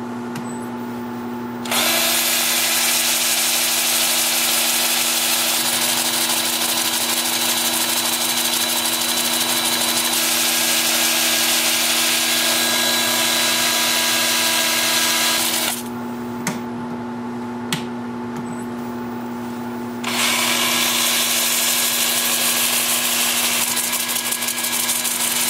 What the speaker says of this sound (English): Yep, it's time for sanding.